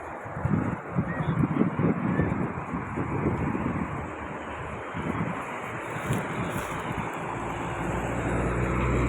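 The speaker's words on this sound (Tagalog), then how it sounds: "kasi may bus, may sasakyan" Road traffic with a bus and other vehicles passing, heard as a steady broadband rumble with wind buffeting the microphone, continuous and moderately loud throughout, with no clear speech.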